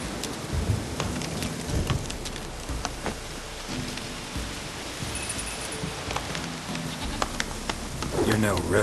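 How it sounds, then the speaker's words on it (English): Steady rain falling in The Witcher 3 video game, a dense hiss with scattered drop ticks and low rumbling underneath, continuous and fairly loud throughout. "好像下雨了。"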